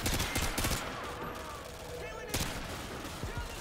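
Faint, distant gunfire pops and crackles during a Call of Duty Modern Warfare 2 raid on a Brazilian ghetto, scattered shots blending into steady background battle noise.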